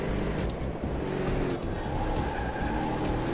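A Corvette race car in a racing video game, engine roaring steadily at high revs with tire squeal and skidding through a corner, loud and continuous with no talk.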